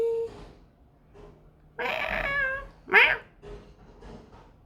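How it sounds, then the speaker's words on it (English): A pet cat at home meows several times: a short call, then a long loud drawn-out meow and a sharper one soon after, with quiet gaps in between and no talking. "The cat is here."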